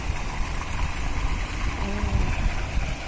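Steady broadband rush of a flowing stream in Switzerland, fairly close and continuous, with a faint low rumble underneath and no talking.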